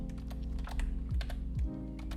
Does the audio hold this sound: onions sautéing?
no